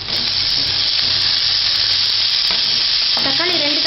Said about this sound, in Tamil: வெங்காயம் வந்து இந்த அளவுக்கு வதங்கினோடனே நம்ம தக்காளியை போட்டுக்கலாம்.